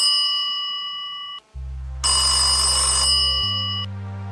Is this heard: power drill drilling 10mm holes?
no